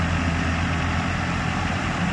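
A Massey Ferguson 385 tractor engine idles steadily nearby, a continuous low rumble with even broadband noise and no pauses.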